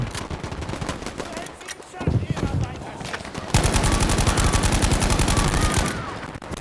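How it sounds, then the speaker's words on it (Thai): Sustained suppressive gunfire in Battlefield V, dense overlapping rifle and machine-gun bursts that grow louder and more continuous midway, with faint voices beneath the combat. "ยิงข่มไว้ก่อนอะ"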